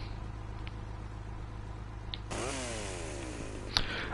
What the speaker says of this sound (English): let's get the chainsaw out